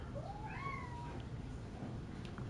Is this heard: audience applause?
no